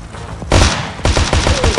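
Rapid bursts of automatic gunfire from a fast weapon in a helicopter video game, loud and close, with two sharp volleys of crackling shots.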